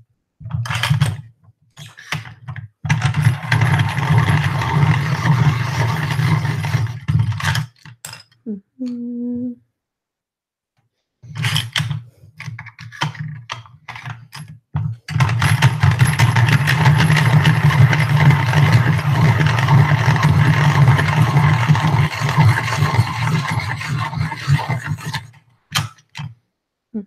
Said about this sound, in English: we're going to break out Yield Classroom Friendly and sharpen all the different pencils